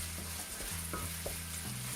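Sausage meat sizzles in a frying pan as a utensil breaks it into mince, a continuous close crackle with light scraping and stirring knocks, no voices.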